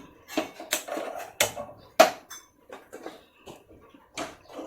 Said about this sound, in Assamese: কেৰাহীখন পাতি দিছোঁ।